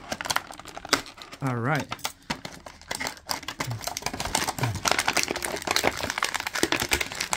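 Plastic toy packaging for a JW Hammond Collection Dimetrodon figure is cut open with crisp snips and crinkling rustles, close and irregular, with a brief spoken word and some talk over it.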